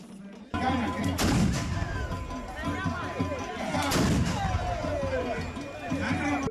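Ceremonial gun display fired during Founder's Day festivities celebrating Nkrumah's birthday, with cultural performances; two big booming reports stand out over a continuous loud crowd din and chatter.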